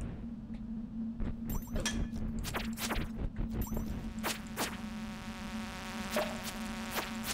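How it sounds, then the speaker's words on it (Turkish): Flies buzzing in Stardew Valley, a steady whining insect drone over a low hum, broken by sharp clicks and game sound effects. "Ya şu lanet sinekler."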